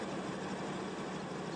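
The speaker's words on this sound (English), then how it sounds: "Sounds like this poor little tractor's struggling" A roughly 175-horsepower tractor in Farming Simulator 19 labors while pushing snow, giving a steady, dense engine roar at moderate level with no talk.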